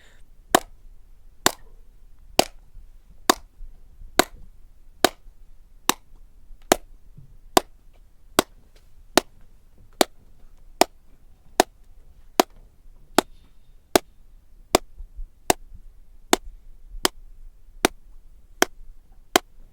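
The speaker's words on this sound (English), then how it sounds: "You can hear how the room deadens echoes by clapping constantly while closing the doors." Sharp, dry single hand claps repeat at a steady pace, about one per second, in an anechoic chamber, each cut off instantly with no echo or room ring behind them.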